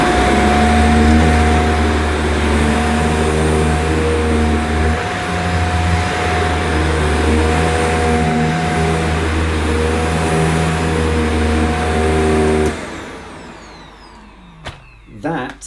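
A Shark AZ910UK Powered Lift Away Anti Hair Wrap vacuum cleaner running on low-pile carpet: a steady, close motor whine with a tonal hum that cuts out near the end, followed by a few handling knocks.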